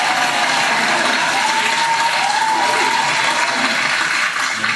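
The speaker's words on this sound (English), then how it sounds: "Let's give her a round of applause." Dense, steady applause from an audience fills the whole stretch at a constant loud level, with no voices over it.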